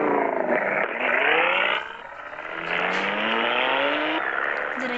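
A car revs and accelerates in the mobile video game Los Angeles Crimes, its engine note climbing through gear shifts in a steady, close, synthetic-sounding drone with no talk over it.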